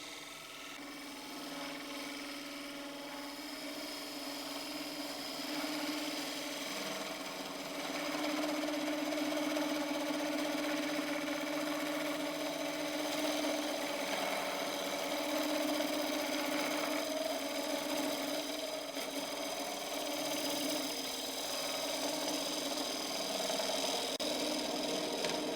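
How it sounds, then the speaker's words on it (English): Bevel cut with a sharp gouge on a natural-edge maple burl bowl spinning on a wood lathe: a continuous droning whir with a scraping, rasping cutting tone that grows slightly louder midway and stays steady. "I'm going to register the bevel just in front, anchor bevel cut."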